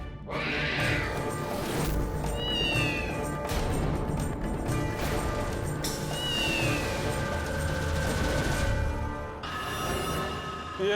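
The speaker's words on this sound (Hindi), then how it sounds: "बॉस के बंगले में आते ही काली बिल्ली ने हमारा रास्ता काट लिया" A black cat meows at the entrance to a bungalow: several drawn-out, rising cries stand out close and clear over a busy, dramatic musical backdrop.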